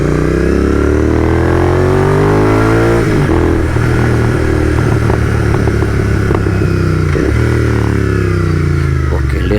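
A GT 650 motorcycle engine revs loudly on a highway, a steady close throttle drone whose pitch rises and falls through the run, with clattering mechanical noise and rushing wind over the top.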